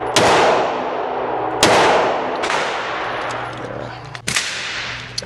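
Suppressed FNX 45 pistol fires Hornady Critical Defense +P rounds, three sharp muffled cracks spaced over a few seconds, each trailing into a long outdoor range echo, with a softer clank near the end.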